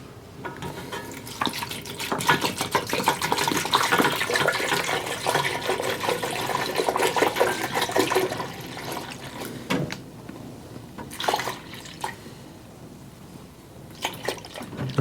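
Half a gallon of apple cider pours from a gallon jug into a pot for caramel apple moonshine, a steady liquid gush lasting several seconds, then tapering into brief splashes and trickles near the end.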